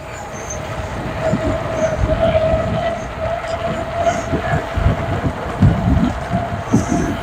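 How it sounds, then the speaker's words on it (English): Windgoo E20 electric scooter riding at speed, with a steady tonal whir from the tyres over rumbling, gusting wind buffeting the microphone, continuous and fairly loud with no talking. "You can hear those tyres whirring around. That is the tyre noise."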